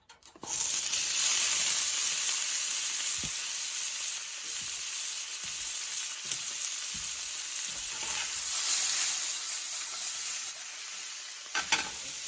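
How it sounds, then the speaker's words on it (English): Vegetables dropped into a ripping hot pan sizzle loudly and steadily, a bright continuous frying hiss with a few faint clinks and scrapes, no voices. "I want to get my pan ripping hot again. And we'll throw the vegetables in."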